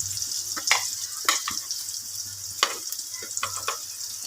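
Fish with onion and garlic sizzling in a hot pan, a steady frying hiss broken by repeated scraping stir strokes and clinks, close and moderately loud.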